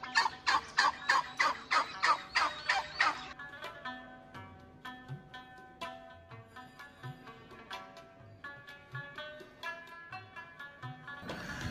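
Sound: turkeys gobbling on a turkey farm

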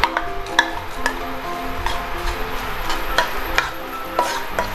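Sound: stir-frying chili and garlic in pan

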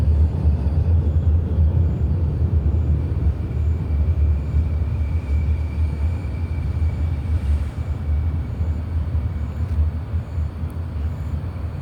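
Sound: subway train arriving late at night

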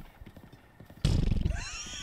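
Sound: person imitating a horse neigh

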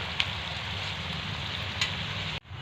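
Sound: onions frying in a pan

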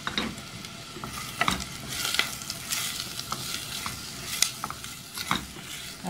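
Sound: onions frying in oil in a pot

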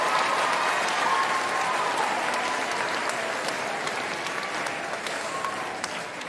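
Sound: audience applause after cello and violin performance

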